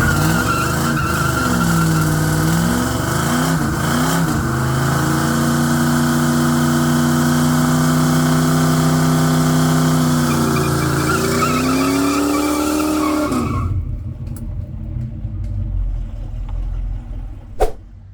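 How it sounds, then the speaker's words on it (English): A 1979 muscle car with posi-traction spins a donut on a small driveway pad, engine roaring steadily as the tires skid and squeal loudly for about thirteen seconds, then the noise cuts off to a low idle. "we know it does posi traction burnouts, but will it do a donut on this tiny little pad?"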